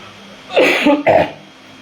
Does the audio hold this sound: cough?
yes